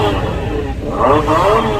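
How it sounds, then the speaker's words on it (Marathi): A children's electric toy motorbike, just repaired after a loose connection, whirs into motion and speeds up, its small motor rising in pitch over about two seconds, close by, with a voice talking over it. "चालू झाली गाडी रेस पण करून दाखवतो तुम्हाला"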